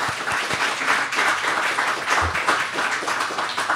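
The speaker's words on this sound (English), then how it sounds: "If we could give him a round of applause." Audience applause at a public history talk in Cleveland, a steady, fairly loud patter of many hands clapping throughout with a few sharper close claps.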